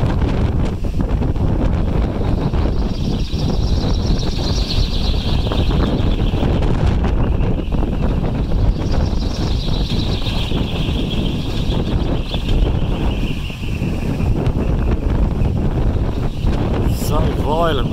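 Storm wind roars continuously around a small wind turbine facing into the gusts, buffeting the microphone loudly, with a faint rising and falling whine of the spinning rotor overhead and someone talking beneath the noise.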